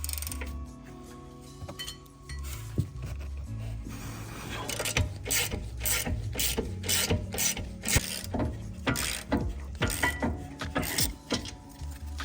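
Rapid clicking of a socket wrench ratchet with a 16mm socket removing brake caliper bolts on a BMW F30, steady rhythmic bursts of metallic clicks repeating close up, with faint mechanical rubbing between strokes.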